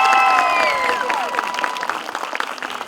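An audience applauds to open a children's dance festival in Shusha, a steady patter of clapping with cheers, while sliding musical tones ring over the start.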